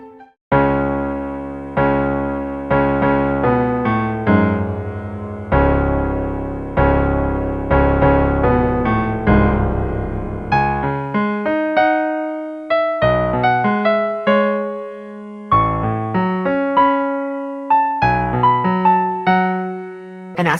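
The opening four bars of a newly composed nocturne unfold as clear, decaying keyboard-like notes and chords, a slow melody moving over sustained harmonies with no talking.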